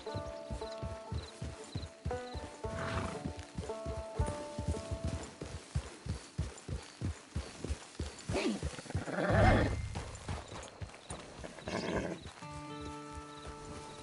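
Video game hooves clip-clop in a steady, even rhythm close by, a horse walking with occasional snorts and a brief whinny partway through.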